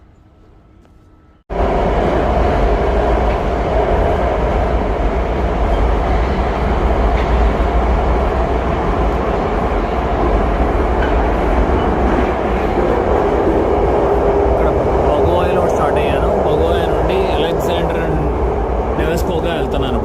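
Interior of a moving St Petersburg metro train, a loud, steady low rumble with rolling rail noise that starts abruptly and holds for the whole stretch, with a person speaking over it.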